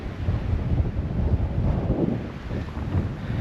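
Strong wind buffets the microphone on a tree-lined mountain road, a steady loud rumbling roar with gusts that swell and ease, no voices over it.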